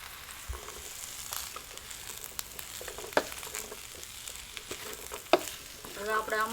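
Chickpeas fry in a pan with semolina and masala, a steady soft sizzle broken by scraping stirs and the occasional clink of a spoon, louder and crackling toward the end.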